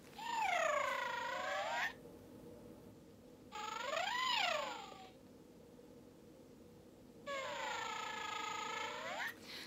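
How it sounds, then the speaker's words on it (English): A pygmy puff plush toy giving out electronic purring and meowing sounds in three separate bursts, close and clear, with quiet pauses in between. "I got a pygmy puff and it purrs."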